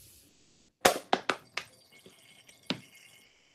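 Water drips from a glass separating funnel holding a layer of oil above it, falling as a few sharp, distinct drops with quiet pauses between them in an otherwise still room.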